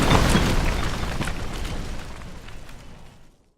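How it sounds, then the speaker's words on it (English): A designed building-destruction explosion bursts in with a loud, heavy boom, then a dense rumbling wash of bricks breaking and debris falling that gradually thins and fades over about three seconds. "So we have bricks that breaks. Okay, we have explosion, and then we have stuff just breaking and falling."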